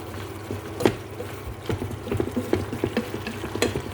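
Squid adobo bubbling and simmering in a pan, a soft steady sizzle with scattered pops and occasional stirring clatter, close and fairly quiet.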